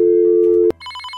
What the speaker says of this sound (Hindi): अरे यार, फिर से आ रहा है ये फोन